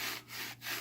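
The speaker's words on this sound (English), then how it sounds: "But that already looks better just from cleaning it with Scotch-Brite." A Scotch-Brite pad scrubs a starter generator part from a Sears Suburban tractor, giving a close, steady abrasive rubbing with two brief dips in the stroke, loud and continuous without talk.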